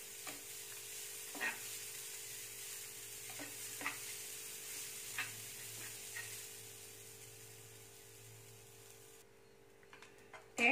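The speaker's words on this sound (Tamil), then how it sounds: "தேங்காய் நல்லா வறுபட்டுருச்சு" Grated coconut being dry-roasted in a pan, with a soft steady sizzle and periodic scraping stirs at a slow, regular pace, close and quiet.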